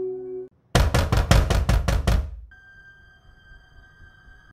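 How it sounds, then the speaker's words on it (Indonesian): About seven quick, loud, sharp knocks land on a house door in an even rapid burst, then a steady tone hangs on quietly afterward. "Saat pintu rumah Sam diketuk seseorang"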